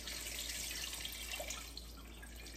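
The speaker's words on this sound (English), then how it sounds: "We're gonna go ahead and add some coconut juice in here." Coconut juice pours steadily into a pot of chicken curry on the stove, a continuous splashing liquid stream close by with no talking.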